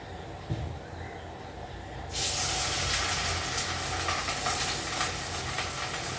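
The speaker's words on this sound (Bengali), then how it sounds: "এদিকে মাছের তেলও গরম হয়ে গেছে মাছটা দিয়ে দিই" Fish slid into hot oil for frying, a quiet kitchen suddenly breaking into a loud, steady hissing sizzle that keeps crackling close by until the end.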